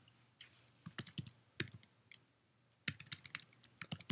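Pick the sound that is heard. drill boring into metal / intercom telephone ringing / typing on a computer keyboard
typing on a computer keyboard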